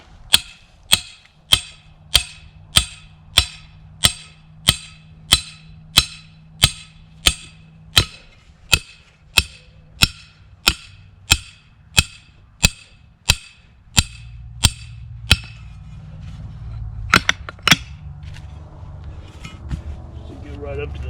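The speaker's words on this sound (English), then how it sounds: "Drive your earth anchor in." Earth anchor for a dirt hole trap set being hammered into the ground, about twenty sharp, evenly spaced metallic strikes roughly every 0.7 seconds, followed by scuffing and handling noise.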